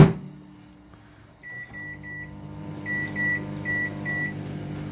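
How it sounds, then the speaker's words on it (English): A microwave oven hums steadily while cooking rump steak in a Micro Chef grill dish, with a series of short electronic beeps sounding near the end over the continuous drone. "we're going to put it back in the microwave for 3 minutes"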